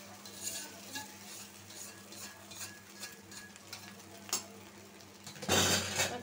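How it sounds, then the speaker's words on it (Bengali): Noodles tossed with egg in a small frying pan make a quiet sizzle with scattered spatula scrapes and taps. A louder burst of frying and stirring comes at the end, and no one speaks. "এখন ভালো করে ডিমের সাথে মিশিয়ে নিই"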